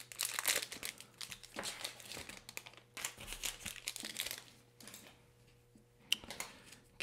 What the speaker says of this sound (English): Open up our little packet here.